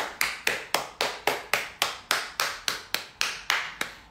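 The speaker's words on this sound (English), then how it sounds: "Let's clap your hands." A single person's hands clap in a steady, even rhythm, about three sharp claps per second, close up and alone with no talking.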